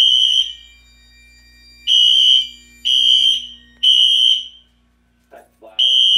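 A loud, high-pitched home alarm system siren blares in repeated bursts of about half a second to a second, separated by short gaps, with a brief voice near the end.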